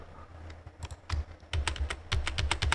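Keyboard shortcuts being pressed on a computer keyboard while editing a vMix virtual set, a quick run of close, crisp key clicks in uneven clusters with no voices.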